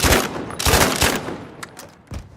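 Several sharp VGO shotgun blasts fire in quick succession at distant enemies in Battlefield 5, loud close reports that each ring out briefly with a short tail between shots.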